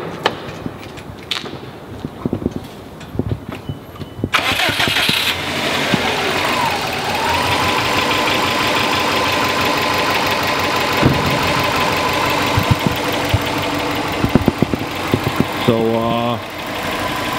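A 2005 Subaru WRX wagon with factory turbo, intake and exhaust cranks briefly, fires up, and settles into a steady, fairly quiet idle close by, while people talk over and around it.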